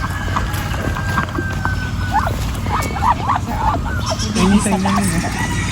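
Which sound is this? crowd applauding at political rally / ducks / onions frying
ducks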